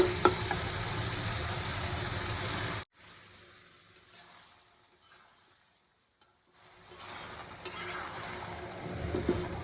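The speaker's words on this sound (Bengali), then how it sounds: "টমেটোগুলো আমি ভালোভাবে কষাই নেব" Tomatoes are sautéed in a pan for prawn bhuna, a loud close sizzle that cuts off abruptly, leaving faint stirring and kitchen clatter before the frying noise returns near the end.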